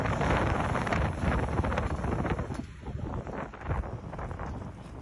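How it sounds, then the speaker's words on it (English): Strong, steady wind buffets the microphone on a bridge to an island in Tromsø, Arctic Norway, a loud continuous rumble and roar with gusts that swell and ease throughout, no voices. "on the bridge over onto the island, it was extremely windy"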